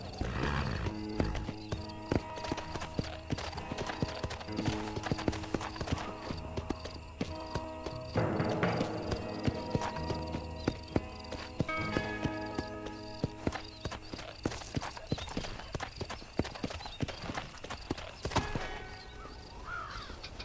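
Horse hooves clip-clopping with whinnies and neighs, mixed with crow-like cawing and a busy game soundscape in Red Dead Redemption, continuous and fairly loud.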